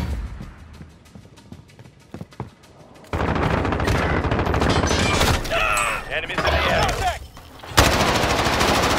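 Dense video game gunfire in a multiplayer match, rapid machine-gun bursts and shots rattling almost nonstop after a quieter opening, loud and close with a sharp blast near the end.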